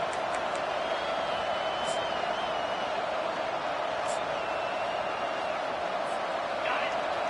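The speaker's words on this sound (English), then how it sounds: "The roar of the crowd trying to fuel this defense to keep them pinned in their own end." A football stadium crowd roars as the home defense tries to keep the opponent pinned deep in its own end, a loud, steady wash of massed cheering that holds evenly for several seconds.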